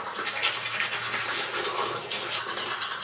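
Teeth being brushed with a toothbrush, close and steady scrubbing strokes that keep up for a few seconds.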